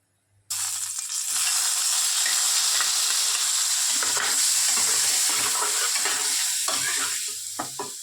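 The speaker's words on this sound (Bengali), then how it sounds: "এই ফ্রাই প্যানের মধ্যে পনিরটা ভেজে নেব।" Loud, steady sizzling of paneer frying in hot oil starts abruptly, with occasional scraping and stirring in the pan.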